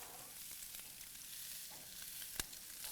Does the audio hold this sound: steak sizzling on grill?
yes